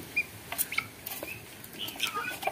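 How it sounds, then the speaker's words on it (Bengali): Tithi fowl peck at water-soaked feed on a poultry farm, scattered soft clucks and short calls rising over a low background, close and intermittent. "দেখতেই পারতেছেন কিভাবে খাইতেছে মুরগি।"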